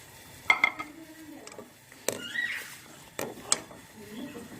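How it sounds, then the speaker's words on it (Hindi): Shredded chicken added to a vegetable soup pot and stirred, with a few light clinks of a spoon against the pot and soft scraping, faint and intermittent, under someone speaking. "अब हम इसमें चिकन शामिल कर देते हैं।"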